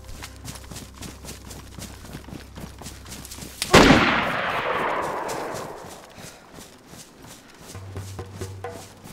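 A single loud, close gunshot from a 7.62 CR carbine in DayZ cracks out and rolls away in a long echoing tail. Faint, steady ambient sound and footsteps sit underneath before and after.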